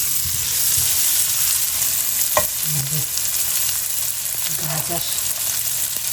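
Carrots and capsicum frying in a pan as vegetables for white sauce pasta, a steady broad sizzle throughout with occasional stirring scrapes and a brief spoken word partway through.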